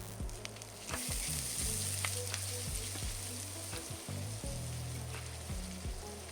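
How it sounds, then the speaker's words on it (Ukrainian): Vegetables sizzle steadily in butter in a hot pan, with occasional scraping from stirring cutting through the continuous crackle. "Додаю 50 г вершкового масла. І ще трохи обсмажую."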